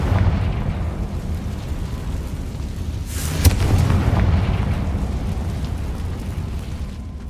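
A Confringo fire spell bursts in Hogwarts Legacy: a sharp blast a little past the midpoint, blooming into a rumbling swell that fades slowly over constant low game ambience.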